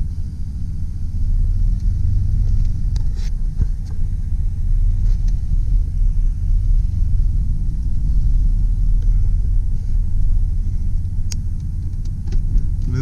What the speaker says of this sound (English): I think we're ready to go on a test drive. I'll start out with reverse.